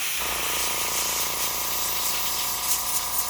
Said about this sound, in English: Spray it one last time.